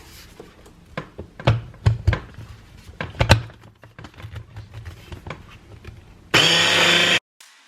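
A blender blitzes homemade palm-oil-free chocolate spread in a short, loud, steady burst lasting about a second, following a run of scattered knocks and kitchen clatter.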